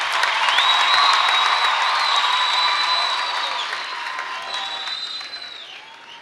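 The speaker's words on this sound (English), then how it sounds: "let's clap hands for our sister" Conference audience applauding steadily for several seconds, a dense wash of clapping with some cheering and crowd noise that gradually eases off toward the end.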